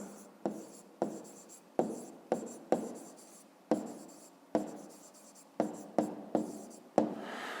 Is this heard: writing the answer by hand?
yes